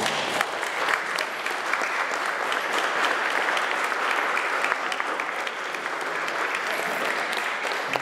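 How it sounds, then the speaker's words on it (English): Dense, sustained applause from an audience at an art salon performance, many hands clapping steadily and loudly for the full stretch, with a faint murmur of voices underneath. "have one more round of applause for my members"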